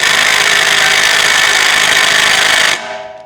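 A power tool drives a T50 rotor hold-down screw on a Range Rover's rear brake, a loud, close, steady whirring that runs for a few seconds and then abruptly winds down.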